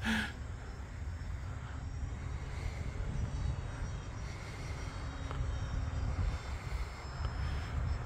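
An E-flite Valiant RC airplane flies on a 4S battery, its electric motor and propeller giving a steady, faint whine and drone that holds at distance throughout.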